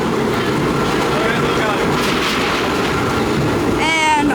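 An R16 subway train running along the tracks, a loud, continuous rumbling roll with a squealing screech near the end. A person talks over it.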